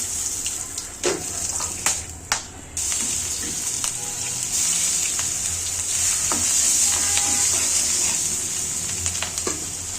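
Fried fish dropped into hot oil in a pan, a loud, sustained sizzle with a few knocks and stirring scrapes early on, then a steady bright crackle with no talking.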